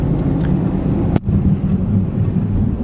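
Pickup truck driving out to a farm field, carrying a skid of seed and fuel, with a steady low engine and road rumble throughout, broken by one sharp knock partway through.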